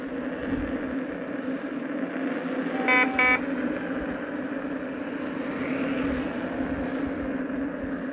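An Inmotion electric unicycle gives a brief burst of rapid high-pitched beeps, close by, over steady outdoor background noise.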